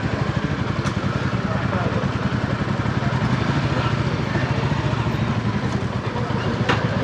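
A motorcycle being ridden aboard a river ferry vessel near Chandannagar, its engine thumping in a steady rapid putter close by, with voices murmuring in the background.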